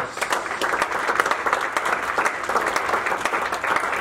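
A church congregation applauds steadily, many hands clapping in a dense, continuous burst that holds at an even level for several seconds.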